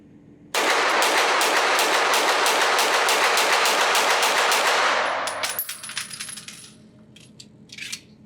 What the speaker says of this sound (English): run a magazine of hollow points through it, and just make sure we have no failures